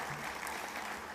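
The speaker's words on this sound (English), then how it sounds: "But clap for her anyway." Brief burst of applause from a graduation ceremony audience, steady clapping heard for just over a second.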